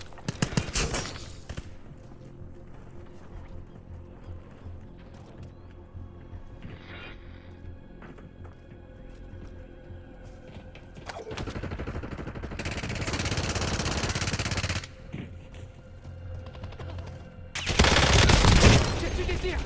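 Gunfire in a battle royale video game comes in loud automatic bursts, mainly near the middle and end, over a quieter stretch of ambient game noise.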